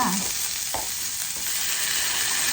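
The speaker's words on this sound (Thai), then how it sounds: "ส่วนกระทะเราจะมาผัด ถั่วงอกค่ะ" Bean sprouts stir-fried in a hot oiled pan, a steady close sizzle with a few scraping stirs near the start.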